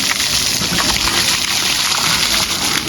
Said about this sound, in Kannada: ನೀರು ಹಾಕೊಳತ್ತೀವಿ